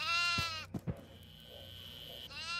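Goat bleating inside the Devour co-op horror game's farmhouse level, a few short wavering bleats near the start and again at the end, with a soft thud and faint background noise between them.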